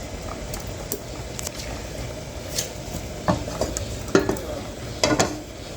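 Raisins and two torn bay leaves frying in about half a cup of oil in a pot, with a soft steady sizzle under scattered metal clinks and scrapes of a spoon stirring, growing louder toward the end.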